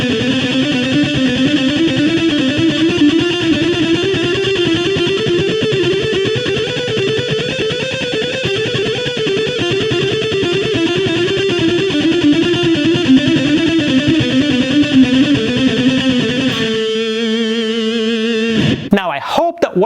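Distorted electric guitar plays a continuous stream of quick notes moving up and down, loud and sustained, ending with a held chord and a brief noise.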